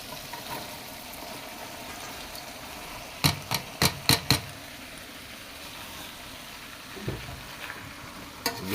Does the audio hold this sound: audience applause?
no